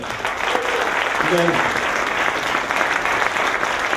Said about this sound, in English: How about a nice round of applause for the students?